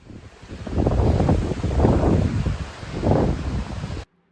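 Hurricane Helene's wind and rising storm surge on Sanibel Island, Florida: gusty roaring wind surges in three swells over a constant rushing wash, loud and close, with no voices.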